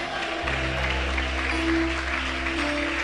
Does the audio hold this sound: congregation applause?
yes